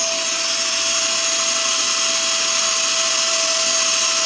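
A Vytronix NIBC22 cordless vacuum cleaner running with its floorhead removed, a loud, steady motor whine with a fixed high tone holding evenly throughout, close by and without talk.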